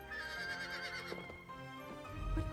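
A horse in the video game Zelda: Breath of the Wild lets out a single wavering neigh over game background sound, followed by a low snort, moderately close.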